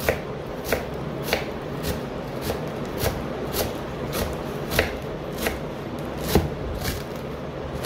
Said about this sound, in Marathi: बारीक कापते बघा.